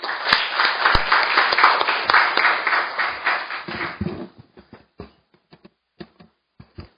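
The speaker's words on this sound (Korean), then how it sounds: "우선 박한용 우리 교수님 박수로 환영해 주시기 바랍니다" An audience at a seminar claps to welcome a speaker, several seconds of moderate applause that stops abruptly and is followed by a few scattered single claps and small taps.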